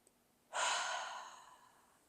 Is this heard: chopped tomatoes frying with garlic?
no